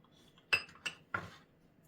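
Three sharp clinks of a utensil against a bowl, spaced apart, close and otherwise quiet, while stirring homemade tomato sauce with honey in a bowl.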